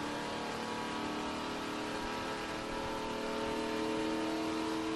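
A NASCAR race car engine holds steady at 5,000 RPM, a faint, even mechanical drone with a constant pitch and no sharp changes.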